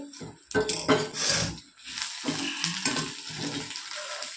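Raw banana slices frying crisp in a pan, with bursts of sizzling oil and a few clanks of a utensil against the pan, loud up close at first, then easing into a softer crackle.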